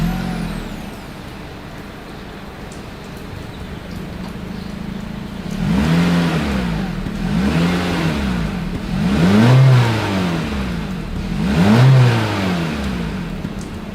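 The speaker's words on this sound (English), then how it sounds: "As always, here is that exhaust clip." A 2023 Honda HR-V's engine revs repeatedly, four rising-and-falling exhaust bursts growing louder, with a steady idle rumble between them.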